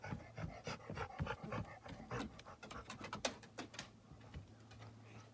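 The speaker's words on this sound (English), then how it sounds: "That's an old dog." An old dog pants in quick, uneven breaths, close and soft, with faint bird cooing in the background.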